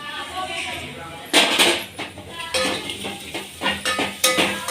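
A spoon or spatula clanks and scrapes against a pan while stirring a thin chickpea-greens curry with peanut flour, in sharp bursts of metallic knocks, with someone talking over it.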